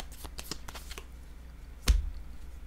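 Tarot cards are shuffled by hand, a run of quick soft riffles and flicks followed by one sharper snap as a card is drawn, close and fairly quiet with no speech.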